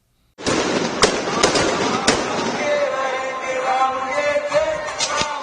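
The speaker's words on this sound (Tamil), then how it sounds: "பின்னர் கண்களை கவரும் வான வேடிக்கையும் நடைபெற்றது." Fireworks burst during the Dussehra burning of a 60-foot Ravana effigy in a Kolkata park, a sharp crackling volley with several loud pops, continuing as dense sputtering crackle and whistling over a distant crowd.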